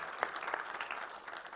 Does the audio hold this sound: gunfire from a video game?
no